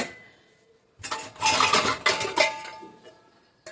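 Steel household dishes, pots and utensils being lifted out of a dishwasher, a burst of close metallic clinks and clatter after a quiet second, fading near the end.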